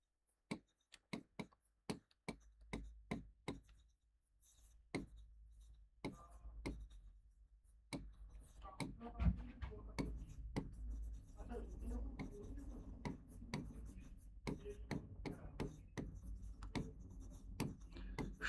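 A pen scratches and taps on paper in close, irregular strokes, sparse at first and then busier, while a teacher's voice dictates a geometry lesson in the background.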